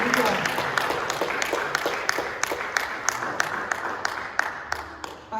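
A church congregation claps together in a steady, even rhythm, with crisp beats at regular intervals over a soft background murmur for several seconds.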